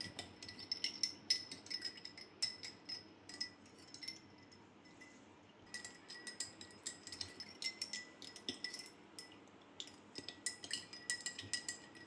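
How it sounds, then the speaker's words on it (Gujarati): A spoon stirs fennel sharbat, a sweet fennel drink, in a glass, giving repeated light clinks and taps against the sides in an irregular rhythm that pauses briefly midway, close and fairly quiet, with no voices. "ચમચીથી હલાવી લેવાનું."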